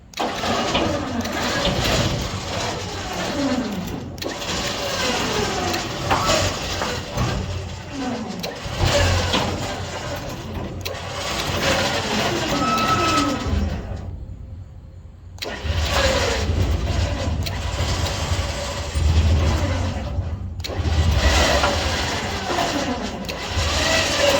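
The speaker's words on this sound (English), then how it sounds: "as it starts to want to brake, it makes a horrible grinding noise" A vehicle engine running while a MAXXD roll-off trailer winch, failing after three years of use, makes a harsh, scraping grinding noise as it brakes, recurring in waves, briefly dropping out before starting again, loud and close.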